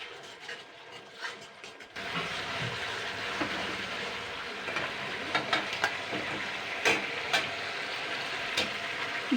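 Fried eggs tossed with pepper and chopped chilli in a hot pan for egg chilli, sizzling steadily. Occasional spatula scrapes and clinks rise over the frying hiss.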